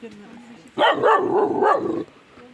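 A Kangal puppy barks at its own reflection in a mirror beside a tandır oven, giving a loud, close burst of yappy barks and whining lasting over a second, with quieter background sound before and after.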